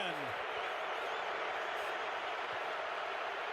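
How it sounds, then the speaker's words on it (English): Oklahoma Sooners fans at a college football game against West Virginia give off a steady, muted stadium crowd wash, a broad hiss of distant voices that holds even throughout, with a brief voice near the start. "Indifferent crowd noise from the Sooner faithful."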